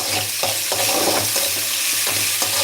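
Bottle gourd poriyal sizzles and fries in a pan, a steady loud hiss with periodic stirring scrapes, no talking.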